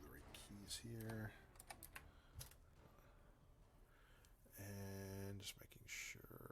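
Rapid clattering keystrokes on a computer keyboard, close and busy, running under intermittent speech with tonal voice bursts layered over the typing.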